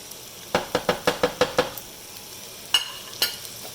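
Onions dropped into a pan of butter and olive oil: a quick run of about eight sharp clicks and taps of the utensil against the pan, then two louder knocks, over a faint sizzle, close and without talk.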